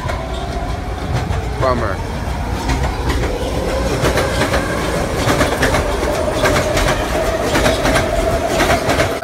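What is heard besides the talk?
train passing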